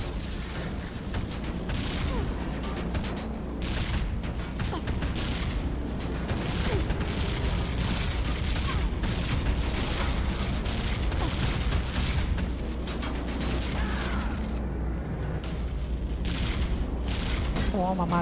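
Sustained gunfire from the shooter Fuse on PS3, dense bursts of weapon fire layered with mechanical clanks and booms, steady and loud throughout, while someone talks over the action.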